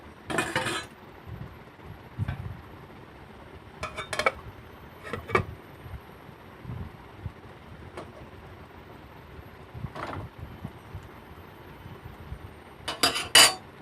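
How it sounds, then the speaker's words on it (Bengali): Fish belly pieces and banana flower being mixed in a metal pot, giving scattered clinks and scrapes of a utensil against the pot, with a few sharper knocks spread across a quiet kitchen background. "এখন এগুলো সব পুরো একসাথে ভালো করে মিক্স করে নিতে হবে"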